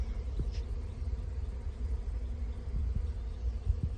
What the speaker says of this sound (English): You can see all the bees in the air here.